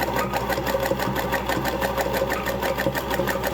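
A 1954 Singer 221-1 sewing machine with a 14 needle and dual duty thread stitches through two layers of denim, its motor running in a fast, steady rhythmic chatter up close with no pauses.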